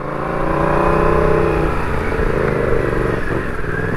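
A Yamaha MT-07 motorcycle rides along a slippery, muddy old road, its engine droning steadily up close with shifting revs throughout, no voices over it.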